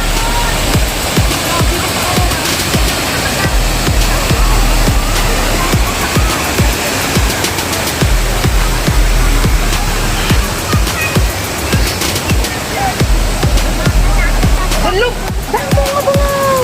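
Bolinao Falls waterfall roars in a dense, continuous wash of rushing water, loud and steady throughout, with faint splashes mixed in.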